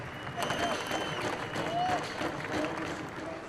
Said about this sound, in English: the crowd is going to erupt now, because P3 is enough to deliver the championship